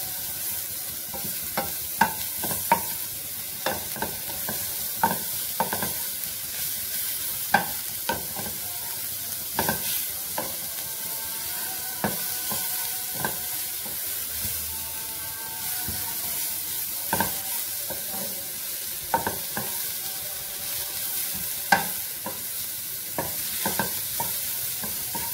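Shredded cabbage sautéing in a pan for a vegetable sandwich filling, with a steady sizzle under repeated scraping and clanking stirs of a spoon against the pan across the whole stretch, no talking.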